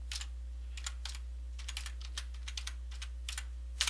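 A password is typed on a computer keyboard as a quick run of light, close key clicks in irregular bursts over a low steady hum, with no talking.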